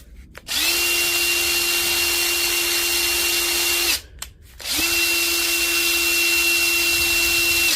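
A repaired power tool runs on test in two long, steady, loud bursts of motor whine, with a brief pause between them and no talk.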